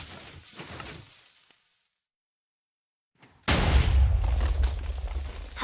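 A Minecraft TNT cannon fires and explodes: faint mechanical rumbling, then near silence, then a sudden loud explosive burst followed by a sustained crackling roar of detonations.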